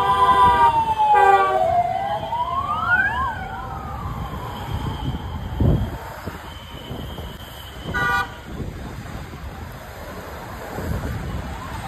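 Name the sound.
deputy chief minister's convoy passing with sirens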